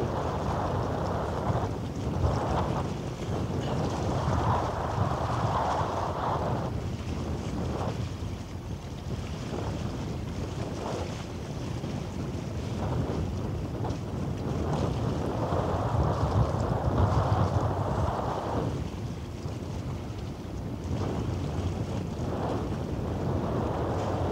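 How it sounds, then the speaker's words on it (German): Steady wind roars across a harbour, buffeting the microphone in rumbling gusts, with low boat and water noise underneath and no talking. "Ursi findet die Windgeräusche toll"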